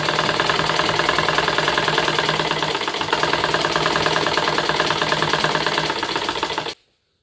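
A pedal-operated sewing machine stitches curtains, its motor out of order, with a fast, even mechanical clatter that runs close and loud for nearly seven seconds before stopping suddenly.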